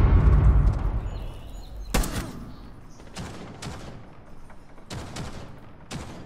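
Gunfire and explosions from a shooter video game crack out in sharp bursts, starting with a heavy rumbling blast followed by several separate volleys of shots, loud and close.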